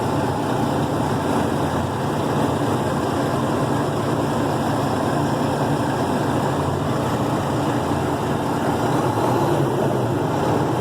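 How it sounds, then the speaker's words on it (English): Car engine revving steadily as the accelerator is pressed, with a running scan tool session; a loud, continuous broadband engine roar holds throughout with no talk. "as I apply the gas, the engine RPMs are increasing"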